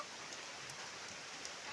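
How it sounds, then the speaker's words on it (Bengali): Heavy rain falling steadily, a dense even wash of drops with faint scattered patters on surfaces, continuous and moderately distant, with no voices. "আমাদের এদিকে খুব বৃষ্টি হচ্ছে"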